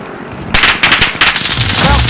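Automatic gunfire in Call of Duty: Modern Warfare Resurgence mode, a loud burst of rapid shots starting abruptly after a quiet moment and continuing in sustained rattling volleys with a few distinct heavier cracks.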